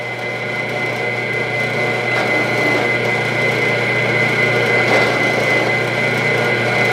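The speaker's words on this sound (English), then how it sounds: "All the holes are chamfered." A machine chamfering holes in a knife blade runs as a steady, loud motor hum with a constant whine, and faint cutting touches near the middle and end.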